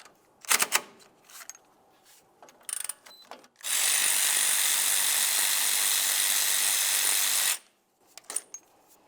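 Hand tools and a power tool loosening the two 10mm mounting bolts that hold the parking brake caliper to the back of the differential on a 1998-2002 Lincoln Navigator: scattered clicks and ratcheting, then a loud continuous drill-like whir for about four seconds, then more clanks.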